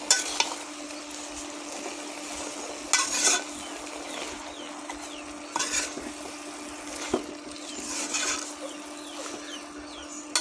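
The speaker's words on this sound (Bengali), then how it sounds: "তরকারি আবারও ভালো করে নেড়ে দেবো।" A spinach curry sizzles as it fries in a pan while it is stirred. Soft, steady frying noise carries repeated scraping stir strokes at intervals. The sound is close and moderately quiet, with no talking.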